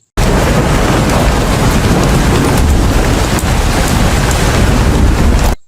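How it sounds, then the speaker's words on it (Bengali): Heavy rain falling outside as a cartoon sound effect, a loud, dense, continuous wash of downpour with rumbling wind-like noise, starting abruptly and cutting off at the end, no talk. "এখন আবার বাইরে যে বৃষ্টি শুরু হলো"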